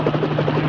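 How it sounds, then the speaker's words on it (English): Helicopter flying in toward a lot to land, a loud, steady low buzzing drone with a rapid pulsing rotor beat, close and continuous through the short moment. "What's that? It's a helicopter."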